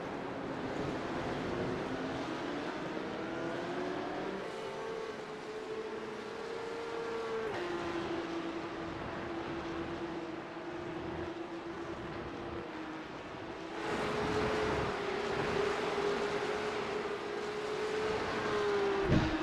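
A Porsche 911 Cup (992.2) race car screams through the gears at Interlagos in iRacing, its steady engine whine rising and falling with shifts and jumping louder near the end, alone with no talk.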